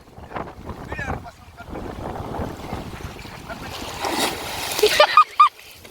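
Lake water churns and splashes outdoors as people bathe, with wind buffeting the microphone, voices and shouts mixed in, ending in a few sharp splashes.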